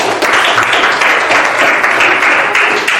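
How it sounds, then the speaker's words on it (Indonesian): Classroom applause from a group of students, a steady dense patter of clapping at close range that carries on for about three seconds with no talking over it. "Oke, tepuk tangan."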